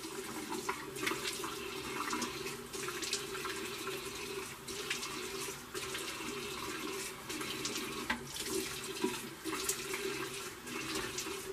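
Tap water runs steadily into a sink while alum is rinsed off a freshly shaved face, a quiet, continuous splashing with occasional louder splashes of hands and water.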